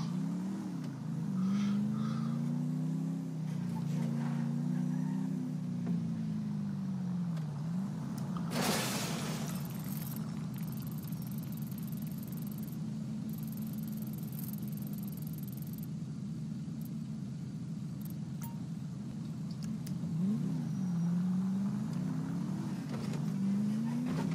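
In GTA 5, a car engine hums and revs as the vehicle is driven, with rising and falling engine pitch, a sudden crash-like burst midway, and a continuous road drone throughout.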